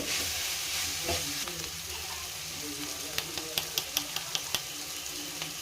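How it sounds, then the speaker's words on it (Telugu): Vegetables frying over a medium flame for veg fried rice, a steady broadband sizzle throughout with a run of sharp spatula taps against the pan near the end, no talking. "కాసేపు మీడియం ఫ్లేమ్లోనే బాగా ఉడికేంత వరకు వేయించుకోవాలండి."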